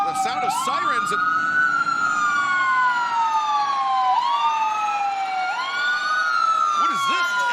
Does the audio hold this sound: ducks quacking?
no